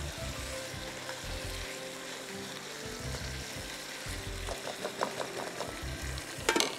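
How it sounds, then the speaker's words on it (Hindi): Meat sizzles and fries steadily in a pan for a desi kunna dish, with occasional stirring clicks and scrapes near the end, close and fairly quiet with no talking. "अच्छी तरह आपने गोश्त को भूनना है।"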